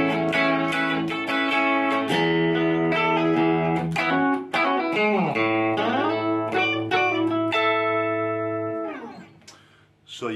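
A Fender Vintera 50s Strat electric guitar played through its bridge single-coil pickup rings out in clean, bright plucked notes and chords, followed by a long sustained note that fades out near the end.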